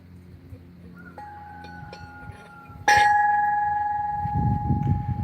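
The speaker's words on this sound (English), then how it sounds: "Ring the bell." A Greek Orthodox church bell is struck once, loud and near, its clear ringing tone sustaining and slowly decaying over several seconds after a fainter earlier chime.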